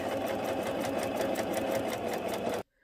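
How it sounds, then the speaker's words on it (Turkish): A sewing machine stitches fabric in a steady, rapid rhythmic whir at close range, running continuously before stopping abruptly near the end. "Şöyle makine dikişlerimi bitirdim."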